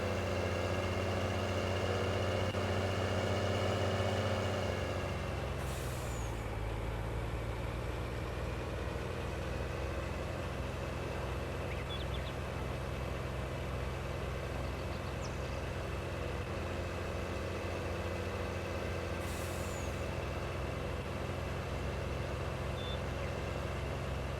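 A truck engine idles steadily in Farming Simulator 19, a continuous loud low rumble with a slight shift in tone partway through and no talking.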